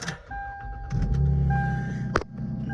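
A 1998 Lexus GS300 starting up: a short cranking whir that catches into a low steady idle, heard close from inside the car, with a few chimes and clicks over it.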